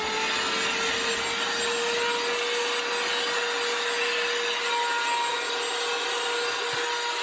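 A Shark vacuum cleaner runs steadily on a staircase, a loud continuous whine with a strong constant tone and brushy hiss, close up and unbroken throughout, with no voices.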